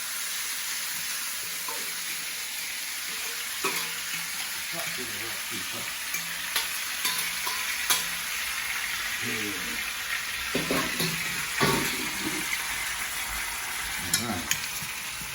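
Oxtail searing in a pot, a loud continuous sizzle with scattered sharp clanks and scrapes from utensils against the pot, and a brief word spoken partway through.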